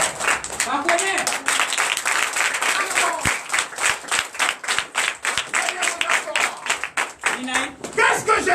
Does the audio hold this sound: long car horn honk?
no